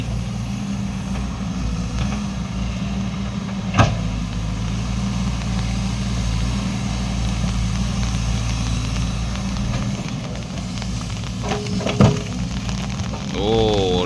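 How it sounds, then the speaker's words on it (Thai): Rain falls steadily outdoors during a fishing session, a continuous hiss of drops on surfaces lasting throughout, with a low engine-like hum underneath and a couple of brief sharp knocks. "ฝนตก"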